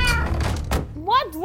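A small cat meows in the video game Minecraft: Story Mode, two rising and falling meows near the end after a few dull knocks, with a person's voice heard at the start.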